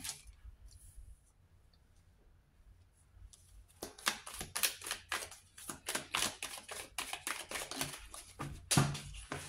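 Tarot cards being shuffled and picked, with quiet handling at first and then a rapid run of crisp clicking riffles and taps close by, with no talking.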